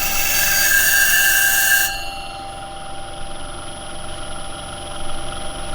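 A small clipper cutter blade is ground on an Edge Pro sharpener, giving a steady bright grinding rasp that stops abruptly about two seconds in and leaves a low mechanical hum.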